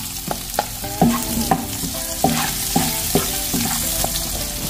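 Ginger, garlic and onion sizzle in hot oil in a pan, with repeated scraping strokes of a spatula stirring the ingredients at an uneven rhythm and a steady frying hiss underneath.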